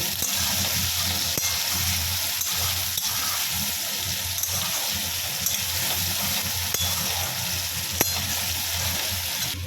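Potatoes fry in a pan with a tomato mixture, filling the clip with a loud, steady, close sizzle. Occasional faint clicks of stirring cut through, with no talk.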